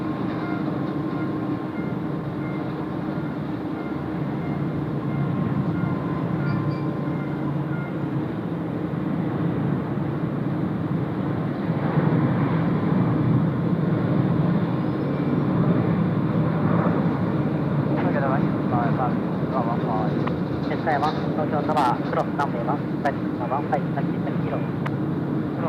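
An All Nippon Airways airliner taking off at Tokyo Haneda, a sustained deep engine roar that builds slightly and holds steady, heard from a distance while a person talks over it.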